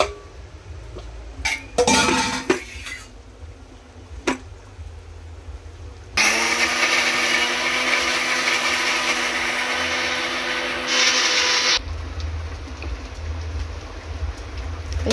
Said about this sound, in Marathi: आता हे आपण टाकतो ह्याच्यामध्ये ग्राइंड करायला